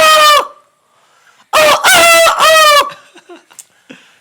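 A performer on a comedy stage show imitates a rooster with his voice: a short loud crow, a pause, then a longer full cock-a-doodle-doo close to the microphone, trailing off into faint stray sounds.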